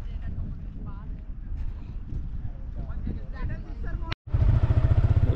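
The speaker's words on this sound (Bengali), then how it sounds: "কর্ণফুলীর পারে এখন মোটর বাইক করতেছি, মোটর রাইডে আছি।" Motorbike ride along the Karnaphuli riverbank, with heavy wind buffeting the microphone, voices faintly heard, and a low engine rumble that pulses louder after a brief cut near the end.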